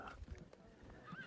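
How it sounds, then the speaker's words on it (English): Horses of horse archers in the Field of Glory 2 strategy game give a short faint whinny with a couple of soft hoof clops, brief and distant. "Horse archers"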